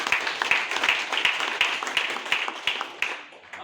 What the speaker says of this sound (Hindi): एक जबरदस्त ताली है दुबई के लिए।